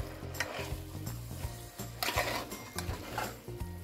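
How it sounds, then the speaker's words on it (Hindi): Spices roast in ghee for a bottle gourd (lauki) curry, giving a faint sizzle with light scraping and stirring clatter over a low, steady hum. "ये अभी भून रहा है"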